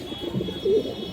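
Kaldom pigeons, Indian high-flyer birds at a farm, give a single soft, low coo that swells briefly over a murmur of background noise.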